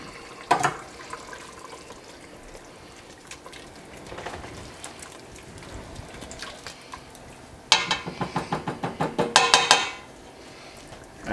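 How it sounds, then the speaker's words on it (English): Pork schnitzel pasta sauce simmering in a pan on low heat, giving soft scattered bubbling and crackling, with a denser burst of rapid popping near the end and no talking. "So this we're only putting down on low. Just to sort of let it simmer."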